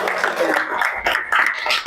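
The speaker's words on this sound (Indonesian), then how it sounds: "Oke, tepuk tangan dulu kalau sudah senang." Children clapping their hands in a classroom, a quick scattered patter of many small claps with a voice talking over it.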